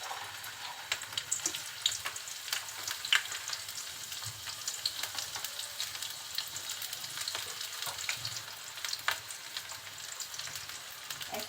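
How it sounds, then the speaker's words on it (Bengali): Chopped onions and green chilies crackle and sizzle in hot oil, a soft, steady close-up frying with light stirring clicks and scrapes throughout, no voices. "তেলটা একটু গরম হলে দিয়ে দিচ্ছি পেঁয়াজ কুচি আর কাঁচা ঝাল।"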